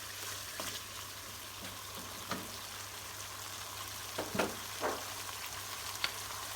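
Caramel sauce for Indonesian tempeh sambal goreng sizzles quietly in a pan while a utensil stirs and scrapes it, with occasional soft clicks over a low hum.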